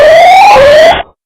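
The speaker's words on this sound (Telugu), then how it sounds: "ఇట్లా సడన్ గా సైరన్ మోగేసరికి పత్తా లేకుండా పోయిండు" Anti-theft siren on a parked motorbike going off at night, a loud close electronic wail sweeping in pitch for about a second before cutting out abruptly.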